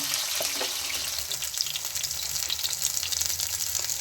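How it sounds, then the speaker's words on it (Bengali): Bhetki fish pieces frying slowly in oil over low heat, a steady close sizzle with small crackling pops running throughout, no voices. "কমিয়ে, আঁচ কমিয়ে ভালো করে ভেজে নিতে হবে, যাতে কাঁচা কাঁচা না থাকে"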